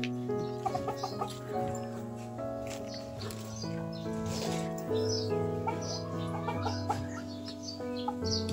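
Silkie chickens cluck and murmur through a morning session, soft repeated calls layered over a steady tonal hum, close by and continuous.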